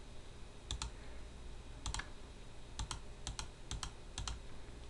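Computer keyboard keys pressed while entering test scores into an offline exam grading system, heard as paired clicks in short, evenly spaced bursts over steady room noise, with no talking.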